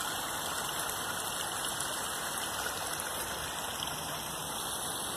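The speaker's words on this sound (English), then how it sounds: "the stream overflows from the lake and we've got a very, very nice" Small waterfall where a stream spills over from a lake in a park, a steady close rushing wash of falling water that fills the whole clip without a break, with no voices.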